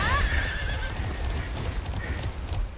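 A horse in the Alicia Online racing game neighs with a clear whinny at the start, followed by steady clip-clop hoofbeats and a second shorter whinny.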